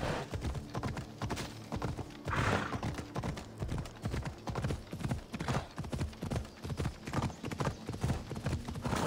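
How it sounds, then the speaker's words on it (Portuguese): Rhythmic clip-clop of horse hooves at a steady gallop in Assassin's Creed Odyssey, close and continuous, with no talking over it. "Deixa eu ver se eu consigo chamar um cavalo"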